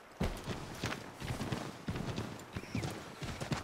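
Horse hooves in the video game Assassin's Creed 3, a rhythmic clip-clop of a horse walking and trotting, with irregular hoof strikes throughout at moderate level.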